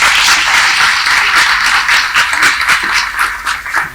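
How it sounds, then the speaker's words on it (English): A large audience at the G20 event in Srinagar applauds loudly, a dense crackling roar of clapping that stays strong throughout and thins only slightly toward the end. "Ladies and gentlemen, I think it deserves a big round of applause over again."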